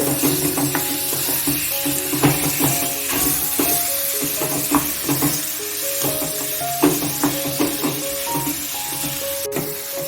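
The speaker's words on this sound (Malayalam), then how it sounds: "നന്നായിട്ടൊന്ന് മിക്സ് ചെയ്ത് കൊടുക്കുക." Dates pickle being stirred and mixed in a pan, a steady sizzle with repeated scraping strokes of a spoon running through at close range, with background music playing over it throughout.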